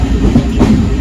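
Rumble and wheel clatter from a Konkan Railway express train running in the monsoon rain, heard up close as a steady, loud roar that continues throughout with no talking.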